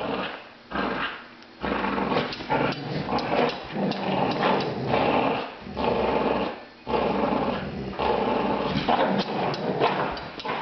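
Two dogs growl steadily while tugging at a toy, a close, rough, continuous rumble with brief pauses over nearly eleven seconds.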